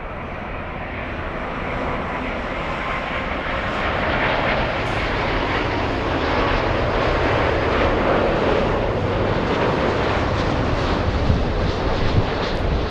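A jet airliner arriving at LAX from Paris roars steadily and broadly, the engine rumble swelling slightly toward the end as it lands nearby, with no voices over it.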